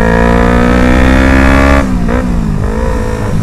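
Loud, close revving of a Yamaha MT-25 two-cylinder motorcycle with an aftermarket full-system exhaust, deep and throaty, held high then dropping and blipping a few times.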